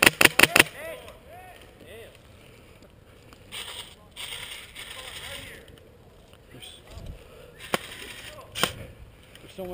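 Gunshots in a combat video game crack out loud in a quick burst at the start, then more single shots follow later over a noisy background with someone talking.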